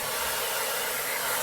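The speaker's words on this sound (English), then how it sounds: "I'm gonna turn on my blow dryer on high speed with a medium heat." Blow dryer running on high speed with medium heat, a steady, loud airy whoosh held without change and with no voices.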